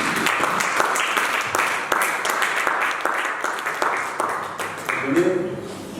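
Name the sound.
congregation applauding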